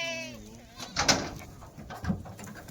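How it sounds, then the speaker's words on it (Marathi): Kathiyawadi goats getting down from a vehicle, with a short bleat at the start followed by scuffling hoof and body knocks, and a voice in the background. "गाडीमधून शेळ्या उतरतात"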